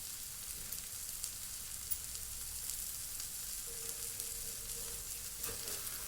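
Food frying in a pan after being flipped to cook the other side: a steady sizzle with a few soft clicks, close and moderate in level, with no talking.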